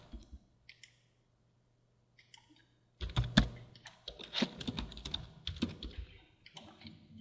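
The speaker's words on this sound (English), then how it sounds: "From here, you will type in all the necessary information." Typing on a computer keyboard while filling in an online distributor registration form, with quiet scattered keystrokes at first, then a dense, close run of rapid clicking clatter.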